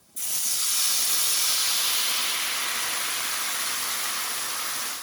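A sauce reduces in a hot pan with garlic and rosemary, opening on a sudden loud hiss of steam that holds steady and fades only slightly over a few seconds.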